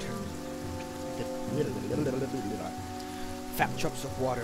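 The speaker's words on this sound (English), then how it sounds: "The darkened sky let loose its rain, and soon fat drops of water" Steady rain hisses across the whole stretch in the video game Banner Saga 2, a constant wash of drops pattering on a surface beneath sustained low musical tones, with a couple of brief sharper splashes near the end.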